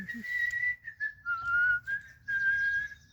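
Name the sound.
person whistling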